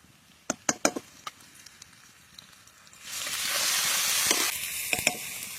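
Chicken and potatoes in a hot pan as spices go in, first a few sharp clinks of a spoon, then a loud steady sizzle that swells and holds, with more clinks near the end.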